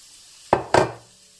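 Chopped onion, parsnip and carrot tumble into a pot with two quick close thuds and a short sizzle, followed by quiet.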